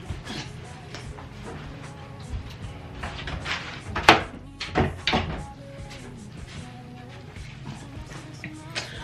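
Doors being closed indoors, a series of knocks, clicks and latch thuds, with one sharper slam near the middle, close by amid light rustling.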